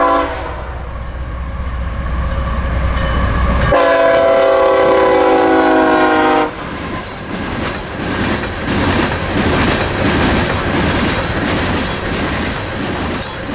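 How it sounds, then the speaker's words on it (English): A freight train with rock hopper cars rumbles past close by, its loud horn blaring for several seconds before giving way to steady rolling and clattering wheels. "Today's train has a large cut of rock hoppers on the head end."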